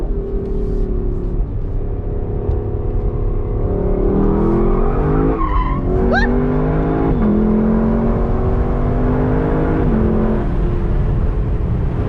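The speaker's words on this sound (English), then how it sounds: "See if we can get a little drifty drift coming out of oversteer here." A 2022 Lexus LC 500 convertible drifts out of oversteer, its engine droning steadily while tires squeal in rising and falling streaks, loud and close throughout.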